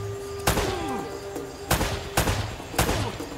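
Gunfire in the video game Uncharted: Drake's Fortune: four loud, sharp shots spaced irregularly over a few seconds, each trailing off in a short echoing tail, with faint game ambience between them.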